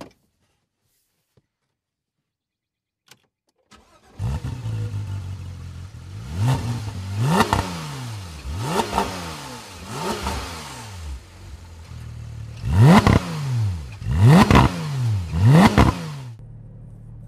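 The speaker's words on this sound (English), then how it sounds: "this is the new GT3 being driven up a hill somewhere in Europe" A Porsche 911 (991) GT3 engine revs hard up a hill through repeated rising gear pulls, each climb ending in a shift, loud and close after a quiet start.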